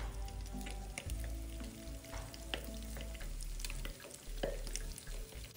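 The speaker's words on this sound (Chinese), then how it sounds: "热一锅油，油热后再将炉调至中低火，然后将塞满内馅的油条一一放入。" Stuffed youtiao dough sticks frying in a pot of hot oil over medium-low heat, a close continuous sizzle and bubbling with scattered crackles and a low rumbling undertone, no voices.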